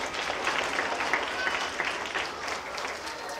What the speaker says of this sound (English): A big round of applause for her as well.